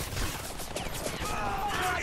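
Rapid gunfire in the video game Homefront, a dense stream of shots and crashing battle noise running continuously and loudly through the whole moment.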